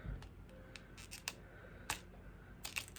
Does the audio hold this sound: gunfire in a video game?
no